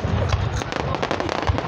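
Fourth of July fireworks bursting in quick succession, a rapid series of sharp crackling pops and bangs with a voice briefly audible among them.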